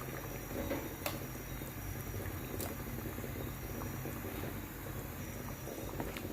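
A pot of water with dumplings and bananas at a steady rolling boil, a constant bubbling rumble with a few sharper pops, fairly quiet and heard alone.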